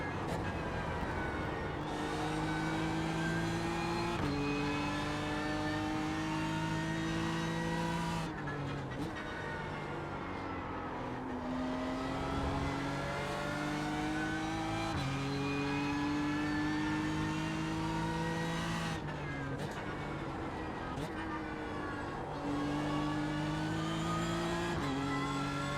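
A BMW M4 GT3 race car engine in the iRacing sim, loud and close, repeatedly climbing in pitch through the gears, with brief drops at each shift and short lifts between acceleration runs.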